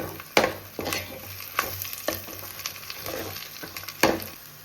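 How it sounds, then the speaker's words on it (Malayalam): Chilli powder, coriander powder and ground onion sautéing in hot oil, a steady close sizzle broken by repeated scraping stirs of the spoon against the pan, with no talking. "മുളക് പൊടി, മല്ലിപ്പൊടി, ഉള്ളി അരച്ചതാണിത്. ഇതൊന്ന് നന്നായിട്ടൊന്ന് സോട്ട് ചെയ്യാം."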